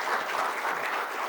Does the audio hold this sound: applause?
yes